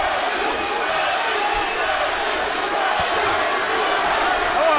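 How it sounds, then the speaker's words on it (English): Large arena crowd at the 2013 Timothy Bradley versus Ruslan Provodnikov boxing fight, a loud, steady roar of massed voices that swells slightly toward the end, with no distinct chant rhythm standing out. "the crowd begins to chant Bradley, Bradley"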